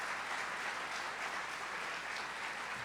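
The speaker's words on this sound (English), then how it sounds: "Let's give him one more round of applause." Conference audience applause, a steady dense wash of clapping from a large crowd throughout.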